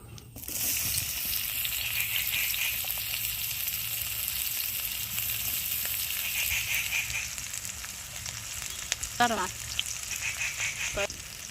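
Chopped onion fries in oil in a wok with a steady, close hiss of sizzling, and a few short stirring scrapes come near the end.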